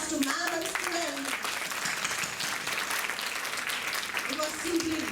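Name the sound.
audience applause for teacher and students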